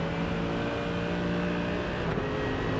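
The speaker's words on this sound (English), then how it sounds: "He's definitely revving it out there, in this case he's using the full rev range of the car." A GT3 race car in a racing video game at Road Atlanta, its engine revving hard through the full rev range, loud and continuous with a steady high whine and no talk.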